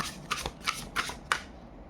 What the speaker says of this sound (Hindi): Wait, let's shuffle again.